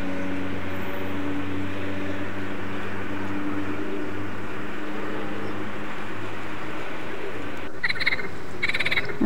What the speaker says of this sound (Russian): Лягушки поют.